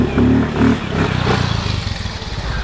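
Motorcycle engine revving in a roadside comedy skit from Maumere, NTT, with throaty pulsing bursts of throttle up close, settling into a rough, fluttering idle.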